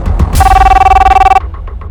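A telephone rings at a cab service office with one long, steady electronic ring of about a second, loud and close over a low background hum.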